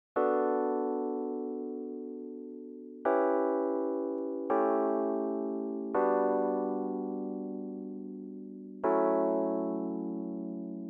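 Simple lo-fi chords built in FL Studio sound as five sustained, warm keyboard-like chord strikes, each decaying slowly before the next one lands, played alone with no talking.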